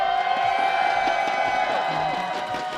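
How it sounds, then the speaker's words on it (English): Crowd at an esports tournament stage cheering and shouting in a steady roar, heard from some distance as a continuous wash of voices with a few whoops rising out of it. "I'm sure they can hear the crowd screaming in the background."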